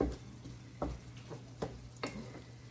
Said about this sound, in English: I'm going to stir this meat again over here and keep it going